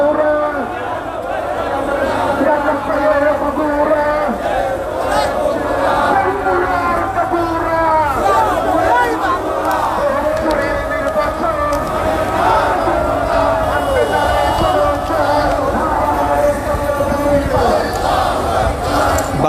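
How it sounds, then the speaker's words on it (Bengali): A crowd of hundreds on a protest march chanting slogans in unison, loud and sustained for the whole stretch, with rhythmic shouted phrases and a general hubbub beneath. "শত শত মানুষ এই বিক্ষোভ মিছিলে অংশগ্রহণ করেছেন এবং তারা স্লোগান দিচ্ছেন"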